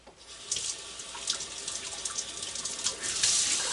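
Water runs steadily from a kitchen tap after frozen pipes thawed, a close, continuous hissing splash that swells slightly toward the end, with no voices.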